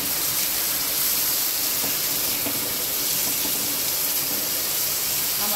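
Finely chopped onion roasting with garlic in a pan for a garlic fenugreek dish, a steady loud hissing sizzle that stays even throughout.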